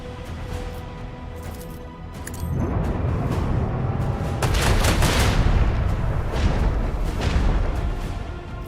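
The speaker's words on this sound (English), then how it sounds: "I want to hear the macro cannons roar." Macro cannons firing in the Rogue Trader Warhammer 40k video game: a heavy, sustained barrage of booming blasts and rumbling fire that swells after a quieter start and stays dense and loud to the end.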